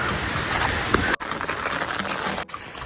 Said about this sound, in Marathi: पाऊस खूप पडतोय